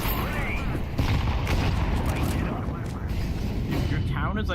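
Grenade blasts and gunfire rumble loudly in a Counter-Strike match at a professional tournament, a dense continuous barrage with booming lows beneath players talking over it.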